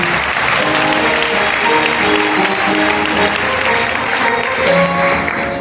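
A church congregation at a Charismatic Renewal gathering claps and applauds steadily and loudly throughout, a dense continuous wash of hands with faint cheering beneath.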